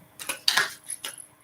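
Soft papery riffling and light flicking of tarot cards being shuffled, a few quick bursts close by in a quiet room.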